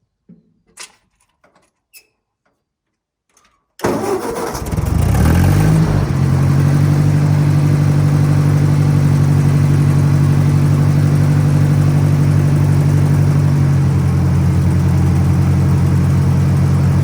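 A vintage Ford tractor engine cranks and fires after a few faint clicks and knocks, then settles into a loud, steady, droning idle that continues to the end.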